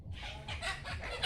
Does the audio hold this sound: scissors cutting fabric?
no